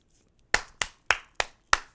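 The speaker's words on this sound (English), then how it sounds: "Let's clap it up for that." A single person claps five times, sharp and close, in an uneven rhythm with quiet gaps between the claps and no talk over them.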